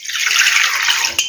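Water pours over ridge gourd peel to wash it, making a brief, close, steady splashing gush with a small clink near the end, and no talking.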